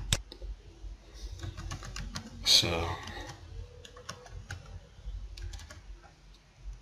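A password is typed on a computer keyboard in a run of quick, close key taps with brief pauses, while a voice speaks softly over the clicking.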